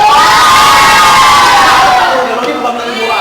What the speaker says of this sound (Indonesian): Soraki lagi, pelan lagi.